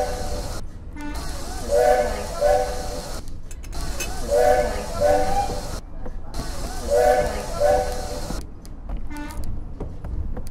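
A South Devon Railway steam train whistles in a series of repeated tonal blasts, separated by brief breaks, over a continuous rumbling hiss of the passing locomotive.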